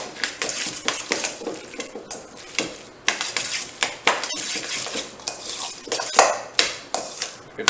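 Noodles being mixed with sauce by hand in a bowl for a power bowl, giving wet squelching, slapping and clinking bursts in an irregular rhythm, close up and fairly loud.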